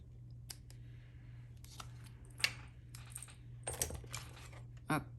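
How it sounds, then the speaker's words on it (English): Card stock trimmed by hand with scissors for a Halloween card, heard as scattered close snips and crisp paper clicks over a low steady hum, quiet overall. "This one I'm gonna trim by hand too."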